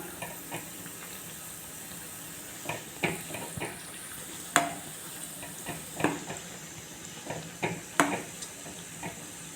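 Navadhanya vada, a mixed-grain fritter, frying in hot oil with a steady soft sizzle, broken by several sharp clinks and scrapes as pieces are stirred and turned over in the pan.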